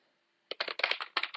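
A quick burst of keystrokes on a computer keyboard, about a dozen close, crisp clicks in rapid succession after a short silence.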